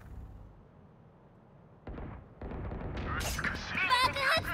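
Explosion in the shooter game Valorant, a sudden heavy boom that breaks a quiet stretch, followed by rumbling blasts and sharp crackling bursts building in loudness toward the end.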